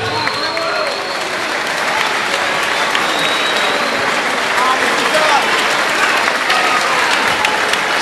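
A boxing stadium crowd applauds a fighter, a broad, sustained roar of clapping and cheering that fills the space, with an announcer's voice faintly over it.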